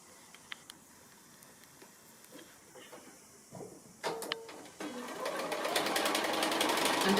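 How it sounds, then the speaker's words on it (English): A sewing machine stitching the framework onto a quilt block, starting with quiet clicks and handling noise before the motor whirs up into a steady, loud, rapid stitching drone. "I'm just sewing the last of the framework on now"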